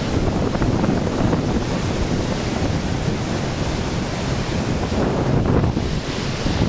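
Floodwater surges at the Prakasam Barrage in Vijayawada, a steady, loud, broadband roar of rushing water mixed with wind buffeting against the microphone, unbroken throughout with no voices.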